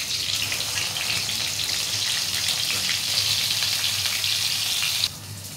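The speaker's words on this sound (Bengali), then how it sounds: "ওই একই তেলের মধ্যে কয়েক পিস বেগুনও ভেজে নেব।" Brinjal (eggplant) pieces deep-frying in hot oil in a home kitchen, a steady dense sizzle and crackle running loud and close throughout, dropping slightly in level near the end, with no voices.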